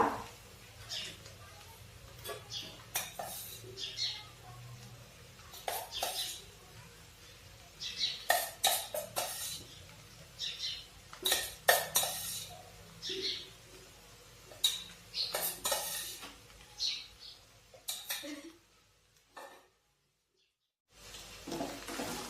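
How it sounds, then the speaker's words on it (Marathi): Crushed peanuts are stirred into sabudana khichdi made without potato in a pan, with repeated close scraping and clinking of a spoon against metal, irregular and moderately loud, fading to near silence toward the end. "आता हा शेंगदाण्याचं कूट छान मिक्स करून देऊया"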